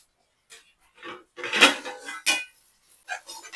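Egg fried rice stirred in a metal pan with a spatula, a series of irregular scraping and clanking strokes, close and fairly loud, with short gaps between them.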